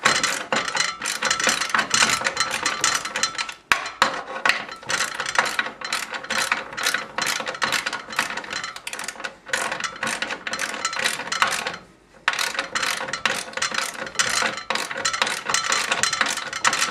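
A ratchet wrench snugs up the rear bolts during an ATB install, with rapid close clicking in long bursts, brief pauses between strokes and one longer break.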